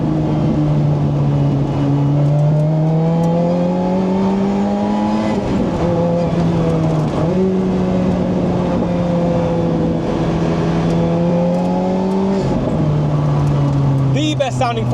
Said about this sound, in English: The best sounding 4-cylinder I've ever heard